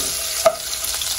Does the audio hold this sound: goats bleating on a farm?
no